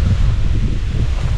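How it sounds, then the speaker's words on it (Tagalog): Strong gusting wind outdoors in Calaca, buffeting the microphone with a low, rumbling roar that pulses unevenly over a brief moment. "sa lakas ng hangin dito"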